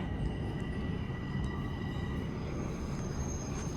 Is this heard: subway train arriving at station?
yes